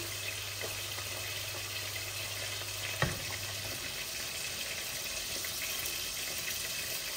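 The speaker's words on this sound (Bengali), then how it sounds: "ওই চুলায় মাছগুলা আস্তে আস্তে ভাজা ভাজা হোক" Tilapia fish frying slowly on a stove gives a soft, steady hiss heard faintly from a distance. A single sharp click lands partway through, and no one speaks.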